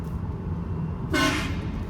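A train horn fitted to a BMW 3 Series car gives one loud, brash blast lasting under half a second, heard from outside over steady low traffic rumble.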